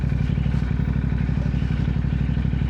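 A motorcycle being ridden, its engine running steadily and loud at close range with a continuous rumble and some mechanical clatter throughout, no talk.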